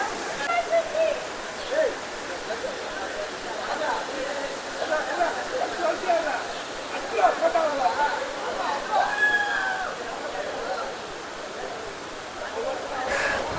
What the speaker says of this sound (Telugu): ఇది వచ్చేసరికి తడాలో డీప్లో ఉన్న తడా వాటర్ ఫాల్స్ అని అంటారు